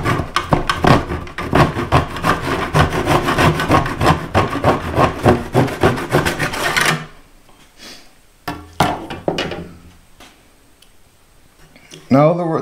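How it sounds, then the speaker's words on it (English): A Kobalt hand saw cutting wood set in a miter box guide, with fast rhythmic rasping strokes, loud and close, for about seven seconds before stopping. Quieter handling sounds follow, and a brief knock comes at the end. "we're going to take the Kobalt saw and we're going to lay it in our guides just like this."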